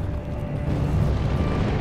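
A teapot cannon fires in the video game Alice: Madness Returns, giving a heavy rumbling boom that swells and sustains loudly for nearly two seconds with a low, rolling explosive roar.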